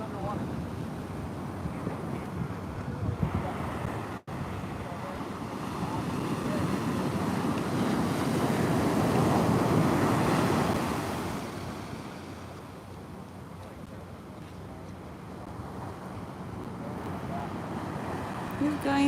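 Small ocean waves washing against a jetty, heard as a steady broadband wash with wind buffeting the microphone, swelling in the middle and easing toward the end.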